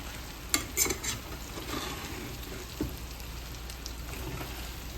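Masala powder stirred into mutton frying in oil, soft continuous sizzling with a few spoon scrapes, fairly quiet and with no voices.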